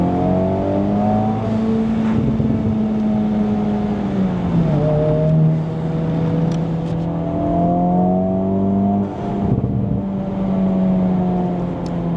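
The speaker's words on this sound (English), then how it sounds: "You can hear the Type S burbles." A Honda Civic Type R FL5 with upgraded aftermarket exhaust idles and revs with low, rumbling exhaust burbles that rise and fall, loud and close, with no talking.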